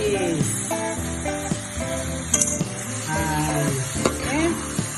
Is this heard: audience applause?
no